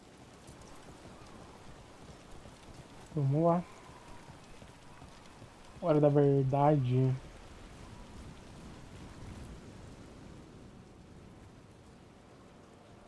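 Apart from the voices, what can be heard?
rain falling in the video game Dragon Age: The Veilguard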